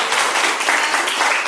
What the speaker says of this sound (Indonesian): Oke, minta tepuk tangan dulu untuk Airul.